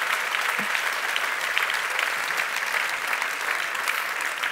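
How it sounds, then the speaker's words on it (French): An audience at a public talk applauds steadily, a dense continuous patter of many hands clapping from a moderate distance. "Vous pouvez l'applaudir, les applaudir."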